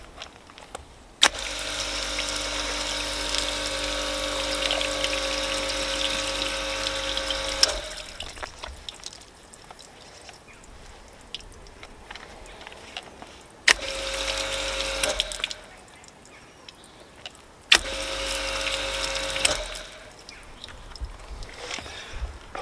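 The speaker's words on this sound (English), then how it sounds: "So if I just take the nozzle off and we'll flood it and see how it gets rid of the water." Water gushes from an open garden hose with the nozzle removed, flooding over the paint of a BMW M4 in three loud, steady bursts separated by quieter pauses of dripping and runoff.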